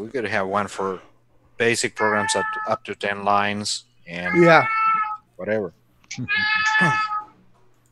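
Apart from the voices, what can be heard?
cat meowing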